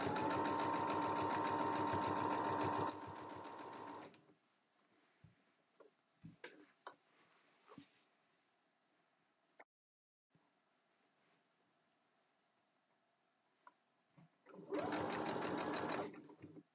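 A sewing machine stitches a fabric cover for a sewing machine, running in loud rapid bursts at the start and again near the end, with quiet handling and small clicks in between.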